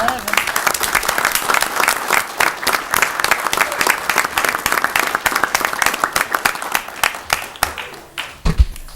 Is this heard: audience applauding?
yes